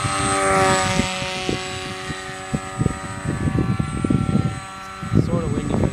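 A large RC airplane's propeller motor drones steadily at about 60% throttle in flight, with a high whine throughout, while a voice talks intermittently over it at moderate distance.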